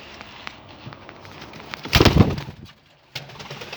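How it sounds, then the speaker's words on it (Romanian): Homing pigeons coo softly in their coop, with a louder burst of cooing and a brief flutter in the middle. "aici am porumbei ăștia, voiajori"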